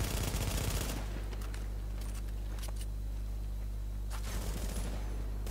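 Gunfire in The Division, a third-person shooter, with a dense burst of rapid shots opening the clip, then scattered single shots and another burst near the end over a steady low rumble.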